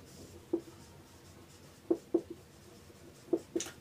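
Pen or marker scratching on a surface while working a math problem, a handful of short, close strokes in irregular clusters over a quiet background, with no voice.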